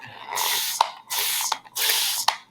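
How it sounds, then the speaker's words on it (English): Spray bottle misting water onto Polytex laid over wheat paste, three quick hissing bursts in a steady rhythm, each with a sharp trigger click, close and clear with no talking. "Got a spray bottle."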